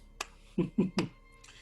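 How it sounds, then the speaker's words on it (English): Four sharp, separate claps, a single light one then three slightly heavier ones in quick succession, close and quiet, a sound effect for a character clapping in a fantasy audio drama. "Einar starts clapping."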